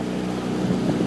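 Low steady motor hum of a Disney boat ride engine, with wind buffeting the microphone throughout the short stretch.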